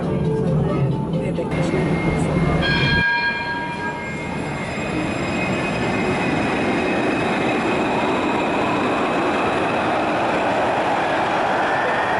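Rumbling Paris metro train interior noise with a steady rolling hum, after a brief automated announcement-like chime at the start; continuous and fairly loud throughout.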